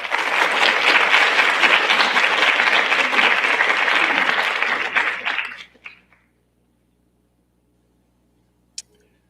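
An audience at a launch event applauds warmly to welcome a speaker, a dense, loud wash of clapping that holds for about five seconds and then stops abruptly, followed by near silence and one faint click.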